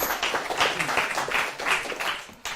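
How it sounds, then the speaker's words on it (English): Brief applause at a live stage demonstration as a volunteer named Covey walks up, a rolling patter of clapping from a modest crowd with some uneven surges, cutting off abruptly at the end. "Let's give Covey a big round of applause as he comes up here."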